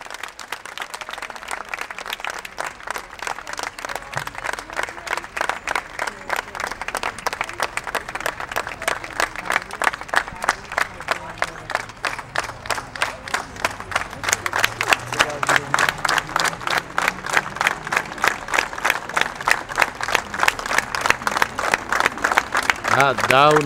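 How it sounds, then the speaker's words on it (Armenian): Young performers of the Arevayin Zangakner group receive sustained audience applause at a Yerevan evening event, a dense, steady stream of clapping that builds in loudness and has some voices mixed in. "ծափարեք մեր պատանիներին"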